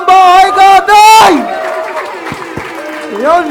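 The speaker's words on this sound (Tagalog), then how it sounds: "malakas na palakpakan at sigawan ng bahay katay" A crowd at a rap song competition cheers and applauds in a dense, steady wash, while a loud amplified voice shouts over the top of it through much of the clip.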